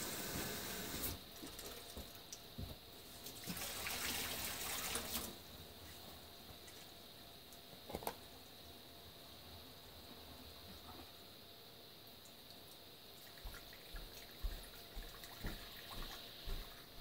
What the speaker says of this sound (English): So I'm going to put in some pretty warm water.